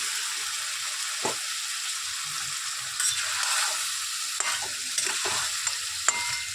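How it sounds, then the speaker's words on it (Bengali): Boiled mutton tossed into a hot pan for a Bengali-style curry, sizzling and frying steadily while a spoon scrapes and stirs in irregular clatters, close and fairly loud with no talk. "এবার দেখুন আমি মাংসটা, সিদ্ধ করা মাংসটা দিয়ে দেবো।"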